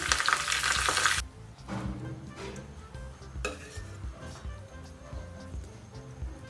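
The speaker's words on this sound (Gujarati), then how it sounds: "તૈયાર કરેલો વઘાર ઢોકળા ઉપર એડ કરીશું" Hot Gujarati tempering of mustard seeds, cumin, green chillies and curry leaves poured over hariyali vegetable dhokla, a loud burst of sizzling that cuts off after about a second, followed by quieter clinks of pans and utensils.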